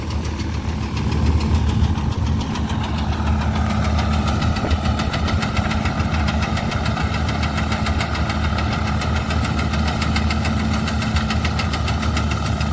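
A Swaraj 855 tractor engine drones loudly and without a break at close range, a heavy, steady, rumbling hum with a fast knocking throb and no pauses.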